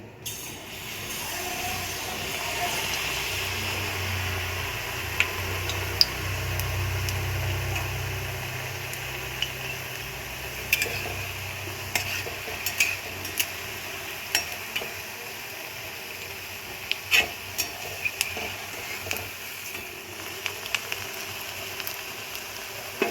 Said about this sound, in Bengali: তেল গরম হয়ে গেছে, এর মধ্যে আমি এরপর একটা দিয়ে দিচ্ছি।